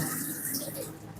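Hot water runs steadily from a newly plumbed tap into a bespoke sink unit at a small lawn bowls club, a constant close splashing rush with no breaks.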